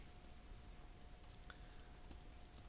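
Keys clatter on a computer keyboard as network switch configuration commands are entered, a quiet, steady run of small clicks over a low background hum.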